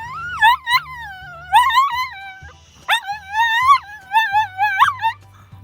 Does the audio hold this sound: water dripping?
no